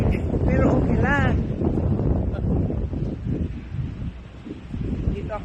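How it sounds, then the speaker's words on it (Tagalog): Strong wind buffets the microphone outdoors in Beijing on Christmas Day, a constant loud low roar and rumble that fills the whole stretch with gusty swells. "Mahangin. Pero okay lang."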